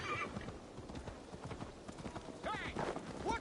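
Horse hooves clip-clop steadily in Assassin's Creed Valhalla as a horse is led along, faint and continuous, with a brief whinny and distant voices in the game world.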